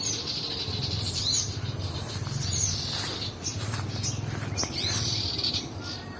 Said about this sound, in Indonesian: itu ribut banget ya ini